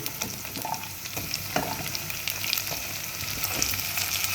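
Onions, potatoes and brinjal sauté in a pan for sambar, giving a steady hiss with scattered sharp crackles and a few utensil scrapes, close and continuous, with no talking.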